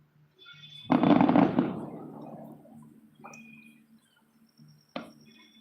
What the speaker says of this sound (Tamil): எங்க பார்த்தாலும் ஒரே வெடி வெடியா தாங்க இருக்கு வான வெடிக்கையா சூப்பரா போய்கிட்டு இருக்குங்க